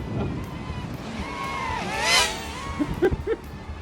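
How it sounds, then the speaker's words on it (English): Strong wind buffets the microphone outdoors during a cheap camera drone flight, a constant rushing roar with a rising whine, as people talk briefly in the background. "It's windy."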